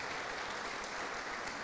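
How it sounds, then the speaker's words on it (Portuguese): A church congregation applauds at a worship service, a steady, fairly faint wash of clapping with no break. "Elcio e a patroa amada, dá um aplauso, Senhor, pela vida deles."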